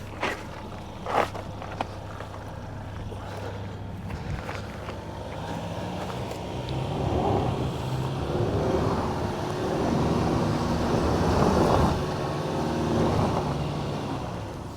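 A Ford Maverick Tremor climbs an off-road hill in a side slip with its left front wheel spinning. The engine rumbles steadily, then revs louder and strains through the second half, with faint tyre and gravel noise and little talk.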